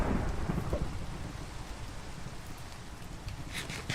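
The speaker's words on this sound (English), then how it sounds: "Is this a thunderstorm?" Rain pours steadily in a Minecraft thunderstorm, with a rolling rumble of thunder fading near the start and a brief crackle toward the end, with no voices.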